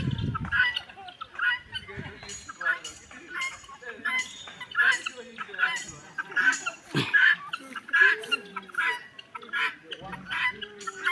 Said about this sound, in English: You can see the other guinea fowls around the wall. They're really foraging.